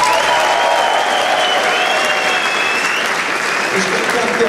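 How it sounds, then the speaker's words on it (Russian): Audience applause at a ceremony at a military training centre, a dense, steady clapping that holds for several seconds with a voice heard over it. "Наверное, парни будут аплодировать."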